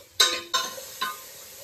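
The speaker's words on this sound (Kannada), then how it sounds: "So once the mushroom and beans are fried, I'm just adding beans." Mushrooms and beans fry in oil in a pan for a moringa flower soup, three sharp sizzling bursts in quick succession, each flaring loud and then settling into a softer hiss.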